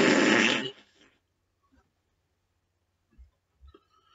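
A comic fart sound effect in a Kingdom Hearts parody; a loud burst opens the clip, then fades into quiet with a few faint low thumps afterward, no speech.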